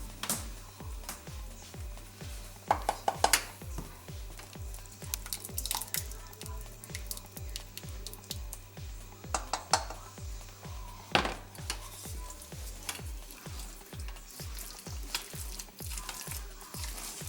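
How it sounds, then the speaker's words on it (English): Tomato sauce being mixed into rice in a pot, soft repeated stirring and scraping with light clinks of a utensil against the pan, quiet and close with a low rhythmic hum beneath. "now we're going to simply add the tomato sauce into the rice and mix it up"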